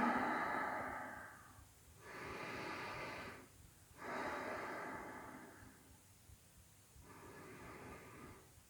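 Slow, deep breaths during a yoga stretch, each long inhale or exhale separated by brief pauses, soft and close in a quiet room, with no talking.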